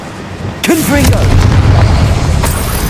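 A Confringo fire spell bursts in the Hogwarts Legacy video game, a sudden loud boom that rolls into a sustained rumbling blast, with a voice briefly calling out over the start.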